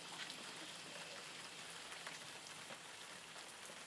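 Soft, steady rain falls in a continuous patter, with scattered drops tapping on a surface; fairly quiet and even throughout.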